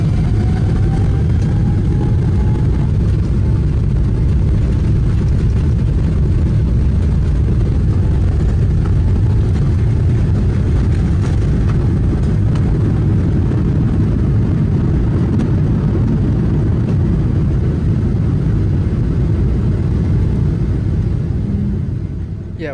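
An airliner taking off from runway 07 right, heard from inside the cabin as a heavy, steady low rumble and engine roar that holds loud and constant throughout, with no talk.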